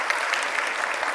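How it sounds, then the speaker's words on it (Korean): Steady dense applause from a church audience at a Sunday service, continuous and even throughout with no pauses, filling the space at moderate loudness. "다시 한번 박수죠."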